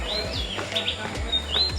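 Birds chirp and tweet at a botanical garden bird release in Puerto Vallarta, bright, repeated calls sounding fairly close over a steady outdoor hum.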